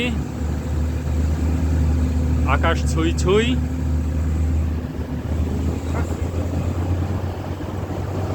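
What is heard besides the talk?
jeep (chander gari) engine driving up Keokradong mountain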